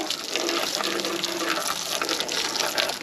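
Steady, loud water splashing and gushing while the cab of an ERF truck is cleaned during restoration, continuous throughout with no talk.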